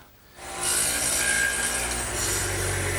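A radial arm saw, swung to an angle, bites into a wooden garden bench armrest to cut a tenon, starting after a quiet moment with a steady high whine of blade through wood that holds loud and continuous.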